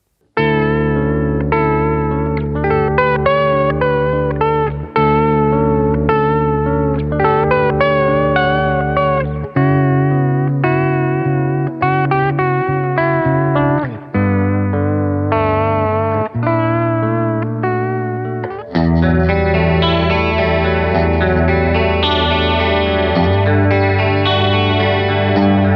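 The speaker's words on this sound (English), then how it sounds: "we have the Diamond Vibrato. And this pedal just sports the most delightfully warm and lush analog modulation tones" Electric guitar played through a Diamond Vibrato analog modulation pedal, warm wavering chords and melodic lines with a lush pitch wobble, loud and sustained, changing phrases every few seconds with no talk.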